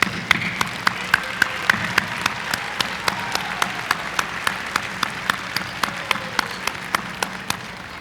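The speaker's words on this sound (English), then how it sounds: "How about a round of applause?" Guests at a high school graduation ceremony applaud, a broad, continuous patter of many hands across a large space, with a regular, closer clap ringing out about twice a second throughout.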